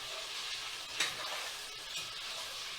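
Chicken pieces marinated in turmeric, chili and lemon juice fry steadily in a pan for a chicken korai, a constant close sizzle with one brief louder crackle and stir near the middle.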